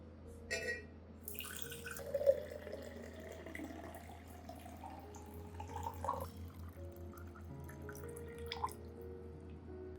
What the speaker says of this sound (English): I'll add 500 milliliters of warm water, about 30 to 40 degrees Celsius.